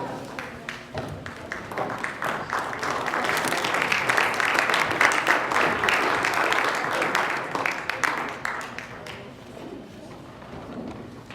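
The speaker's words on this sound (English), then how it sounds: "He was clapping for himself" Audience applause at a Martin Luther King Jr. birthday celebration, clapping that swells into a dense, loud roar and then gradually thins out, with low rumbling and a few voices underneath.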